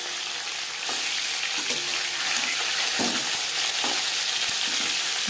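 Catla fish, a live freshwater carp, fries lightly in hot oil in a pan with a steady, close sizzle and occasional stirring or turning clatter, no one speaking.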